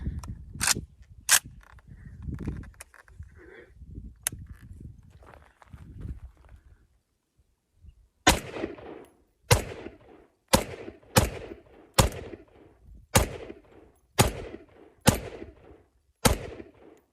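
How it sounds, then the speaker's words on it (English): Ruger Mini 14 rifle firing its first shots after restoration: ten sharp, loud reports in a steady series, preceded by quieter handling and shuffling sounds with a few earlier sharp clicks. "First shots with the Mini 14, it's back to life."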